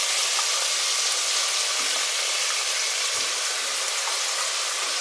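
Shallots, ginger, garlic, coriander and mint sauté in hot oil for a meat kurma, giving a loud, dense, unbroken frying sizzle with a couple of soft stirring bumps and no talk.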